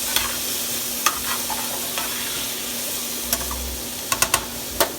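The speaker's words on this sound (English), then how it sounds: "give this a little stir" Food in a frying pan is stirred with a spatula, giving a low, steady sizzle under several sharp scrapes and taps against the pan, a few in a quick cluster near the end.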